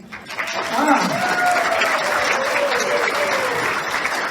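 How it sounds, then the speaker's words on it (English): An audience claps at a community talent show, the applause rising within the first second and staying loud and steady. A sustained tonal voice-like sound rides over it midway. "Applaud right now."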